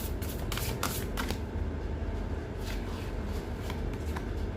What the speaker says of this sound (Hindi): भागवत गीता से भी हम एक कार्ड ले लेते हैं यहाँ पे।